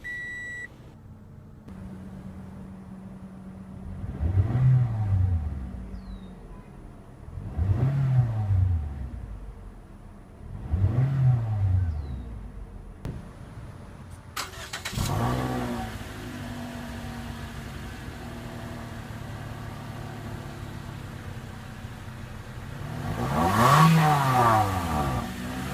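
A 2014/2015 Toyota Corolla S Plus engine starts and revs in three short, loud bursts, then settles into a steady idle before one final rising rev near the end.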